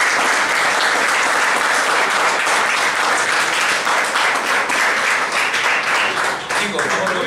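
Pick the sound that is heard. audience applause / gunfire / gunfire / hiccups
audience applause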